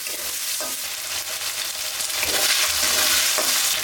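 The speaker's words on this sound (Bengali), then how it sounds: "আদা বাটা রসুন বাটাকে ভালোভাবে কষিয়ে নেব যাতে মশলার গন্ধটা না থাকে" Garlic and ginger paste fries in a hot pan with a loud, steady, close sizzle, and stirring scrapes come through it. Nobody talks.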